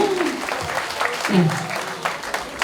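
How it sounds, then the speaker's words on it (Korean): Audience applause at a dance club celebration in Yeongdeungpo, Seoul, a crowd clapping steadily under a host's voice and chatter. "박수 한번 크게 주세요."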